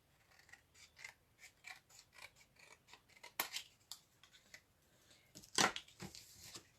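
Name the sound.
scissors cutting folded card with both layers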